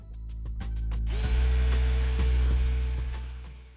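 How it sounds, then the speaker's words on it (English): A regular handheld power drill bores a hole through a 2x4 held in a jig. A few sharp knocks come first, then the motor whines steadily and close up for several seconds. "you can still drill the hole using a regular handheld drill"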